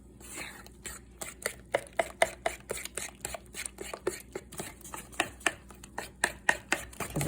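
Sourdough bread dough being mixed by hand in a bowl, with a regular series of soft, sticky slaps and squelches close by, repeating roughly every half second over low background noise.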